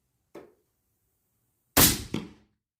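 6.8 Western rifle fired during load testing: a faint short crack, then a much louder nearby shot about 1.4 seconds later with a quick echo tail.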